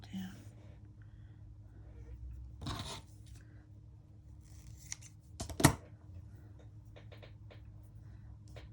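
Scissors snip through gauze at a craft table during junk journal work: a few short, crisp cuts with quiet rustling between them, close and fairly soft, and one sharper snip stands out.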